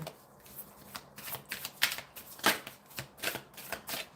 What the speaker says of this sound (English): let me take another one of these cards for her